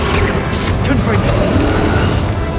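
Confringo fire spell blast in Hogwarts Legacy, a dense, loud crashing burst with sustained rumble and debris noise throughout a short stretch of spell combat.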